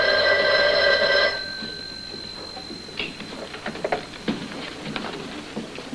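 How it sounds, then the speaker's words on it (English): An old telephone in a 1959 TV crime drama gives a short, bright bell ring, then quieter clicks and handling noises follow as it is picked up and used, with no talking. "I asked her if I could use the phone."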